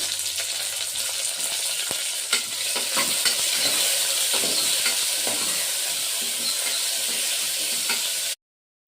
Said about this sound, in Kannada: ನೋಡಿ ಟೊಮೊಟೊ ಎಲ್ಲ ಚೆನ್ನಾಗಿ ಫ್ರೈ ಆಗಿದೆ